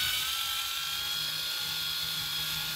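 A power screwdriver backs screws out of a fake DeWalt VANON battery pack, giving a steady high-pitched whine that holds evenly throughout at moderate volume, with no talk.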